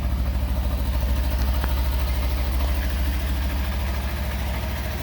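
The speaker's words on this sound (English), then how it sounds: "Let's start her up. Fires right up. Sounds like a parallel twin." A stock 2019 Kawasaki Versys 300X parallel-twin motorcycle idles steadily and fairly quietly close by, a low even throb running through the whole stretch with no talking.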